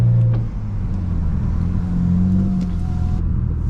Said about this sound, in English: it sounds really good for a straight pipe